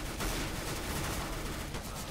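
Gunfire in Counter-Strike: Global Offensive on the Inferno map, a fairly faint, dense burst of shots running steadily through the moment.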